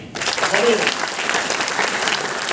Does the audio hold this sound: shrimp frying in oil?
no